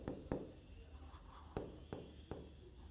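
Chalk or marker taps and strokes on a board during an accounts lecture, a handful of sharp, distinct contacts in an irregular rhythm, close and fairly quiet, with no talk over them.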